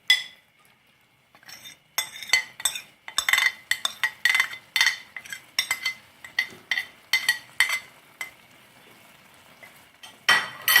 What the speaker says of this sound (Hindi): एक और चम्मच पकड़ूंगी और इसके साथ मिक्स करूंगी।